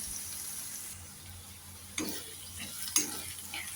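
Soft sizzling under a steady frying hiss as Marwari garlic-chili chutney with tomatoes and spices is stirred in a frying pan, with two distinct spoon scrapes or taps against the pan, close and quiet.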